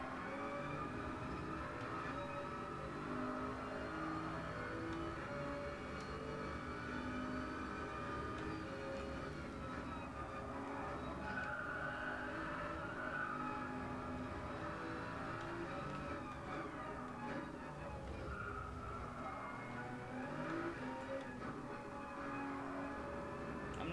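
Car engine in a racing video game, a steady droning motor hum with shifting pitch as the car keeps driving, quiet and continuous with no talk.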